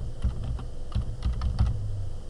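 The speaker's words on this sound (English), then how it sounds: "So I'm able to type." Typing on a computer keyboard while entering text in a PDF editor: a close, steady run of soft key taps in an uneven rhythm, with no voices.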